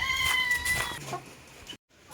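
Kittens in a garage meow loudly, several high rising cries in quick succession, with a short silence before another call begins.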